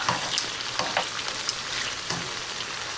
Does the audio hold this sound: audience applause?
no